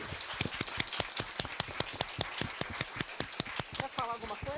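A small audience at a women's publishing summit in Brazil claps in a steady, loosely synchronised rhythm, sharp individual claps repeating for several seconds, with a brief voice near the end.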